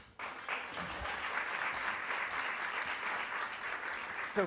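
Sustained applause from a crowd at a film festival filmmaker panel, a dense steady clatter of clapping hands that starts abruptly and continues evenly throughout.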